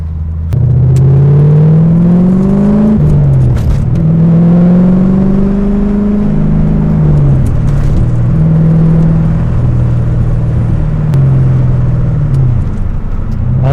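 A Corvette C4 V8 engine runs and revs, its deep, throaty note repeatedly rising and falling in pitch across several swells, loud and close, with a steady rumble underneath.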